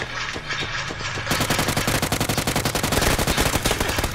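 Rapid video game gunfire fills the mix, a few spaced shots giving way to a dense, loud automatic burst that runs steadily to the end, with no talking over it.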